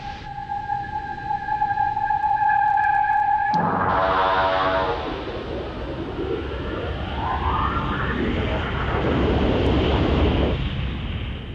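A powerful X-15 rocket plane engine roar rushes in after a few seconds of steady tones, loud and broadband, swelling and fading like a jet passing overhead.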